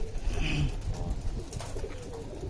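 Low, muffled pigeon coos rise and fall close by amid a rough background hum, with a brief higher bird note early on.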